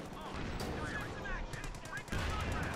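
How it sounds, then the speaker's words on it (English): Sherman tank and infantry gunfire in the World War II strategy game Company of Heroes, set in the Netherlands in 1944, a dense mix of rapid machine-gun bursts and heavier shots with a booming hit near the end. "And my Sherman's shooting at the wrong thing"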